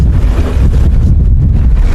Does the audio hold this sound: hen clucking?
no